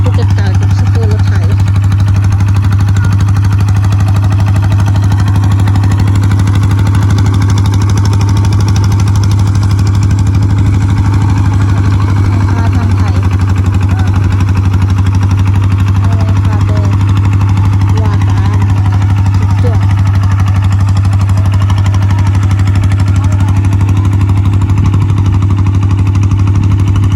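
A tractor's engine runs steadily through the whole stretch while rice-field ploughing goes on, a heavy low drone holding constant throughout, with people talking over it.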